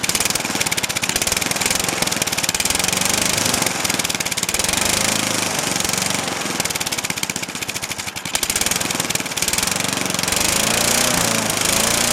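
A Craftsman lawn mower engine runs at high throttle during a carburetor repair, a loud, close, continuous rough roar that holds steady throughout with a brief dip in the middle, and no voices.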